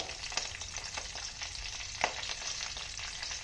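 Tempering of mustard seeds, cumin, curry leaves, dried red chilies and asafoetida frying in oil in a kadai, a dense continuous sizzle with crackling spatters and occasional stirring scrapes, close and fairly loud.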